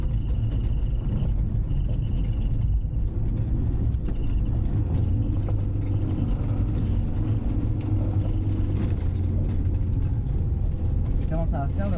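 A Citroën C15 diesel van on old studded Kléber front tyres climbs through snow with a steady, loud engine drone and rumble throughout, while a voice talks over it.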